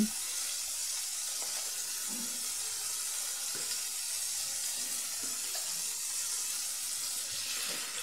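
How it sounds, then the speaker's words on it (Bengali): Water poured into spices in a cooking pan, making a continuous soft hiss and trickling wash at moderate, even loudness, with faint small clinks scattered throughout. "পরিমাণ মতো জল দিয়ে দিলাম"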